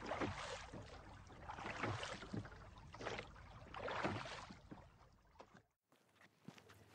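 Water splashes and sloshes rhythmically against a moving boat, with gusts of wind, then abruptly quieter lapping near the end.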